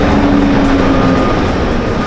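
A train at a station rumbles loudly and continuously up close, a heavy rolling roar with a thin squealing tone running through it.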